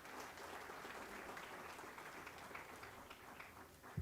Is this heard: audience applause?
yes